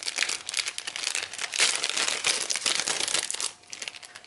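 A crinkly plastic packet of ephemera stickers is handled up close, giving continuous rustling and crackling that dips briefly near the end before resuming more quietly.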